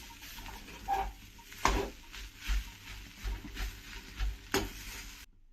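Potato and boiled chicken cutlet mixture being stirred and mashed together in a bowl at home, with soft scraping strokes and a few sharper clinks of a spoon against the bowl, close and fairly quiet.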